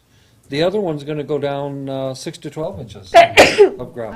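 A single sharp sneeze bursts out near the end of a school board meeting, following someone speaking at close range.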